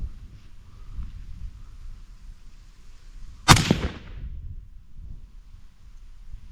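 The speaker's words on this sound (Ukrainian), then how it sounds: "Тепер я стріляю з локтів." A single rifle shot fired from a prone elbow position with a tripod rest cracks sharply and loudly, then decays over a brief rumbling tail amid otherwise quiet surroundings.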